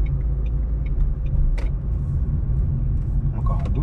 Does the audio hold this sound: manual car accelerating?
yes